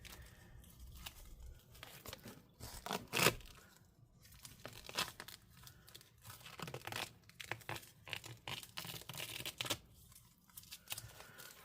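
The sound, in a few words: tape being peeled and rolled onto tape roll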